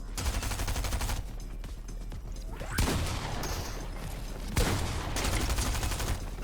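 Rapid bursts of video-game gunfire with rounds punching through walls, dense repeated shots with heavier impacts hitting around 2.8 and 4.6 seconds, loud and close throughout with no talk.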